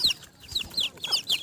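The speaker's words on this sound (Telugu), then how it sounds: "మీకు కోడి పిల్లలు పట్టుకొని చూపిస్తాను" Young Aseel chicks of the Bhimavaram breed, about 24 days old, cluck and peep in short bright bursts, four or five calls repeating close by with no talk.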